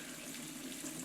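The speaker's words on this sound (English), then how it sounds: "now I'm going to go ahead and drain the gasoline on this thing" Gasoline pouring from the drain plug of a Vermeer 630A stump grinder into a pan, a steady trickling liquid stream heard close up and alone.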